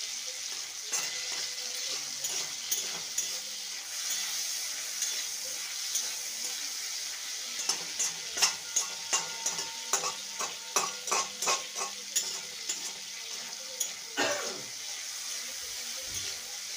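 Tomatoes fry in a pan while a spoon stirs them, giving a steady background sizzle with a run of quick, distinct scraping strokes through the middle, close and moderately loud with no talking.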